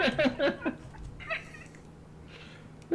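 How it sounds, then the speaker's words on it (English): A cat in heat meows and yowls in several drawn-out calls close by, loudest near the start, with quieter cries trailing off over a low steady hum in an indoor room. "I've got a cat in heat sitting next to me"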